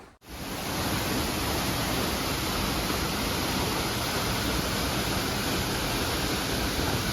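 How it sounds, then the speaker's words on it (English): A waterfall in a creek chasm along Waiparous Creek roars close by, a loud, unbroken wash of rushing water that fills the scene from start to finish. "cannot believe I found this waterfall"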